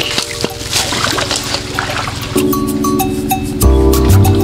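Water flowing into a fishpond stocked with milkfish, a steady trickling and splashing wash that swells louder toward the end, with no voices over it.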